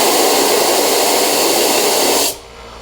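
Compressed air bursting from the moisture traps of a DentalAire Prestige dental compressor as they are purged, a loud, steady, broadband hiss that cuts off abruptly near the end, leaving quieter background noise.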